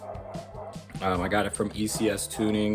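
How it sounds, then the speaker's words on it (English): A pet dog barks and yips in short bursts near a car garage while someone talks over it, the barks loud and close between his words. "That's my dog"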